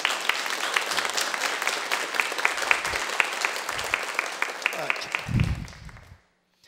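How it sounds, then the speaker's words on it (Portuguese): Round of applause from an audience at a televised Gospel of Luke talk, a steady dense patter of clapping that holds evenly and then fades out to silence near the end. "uma salva de palmas"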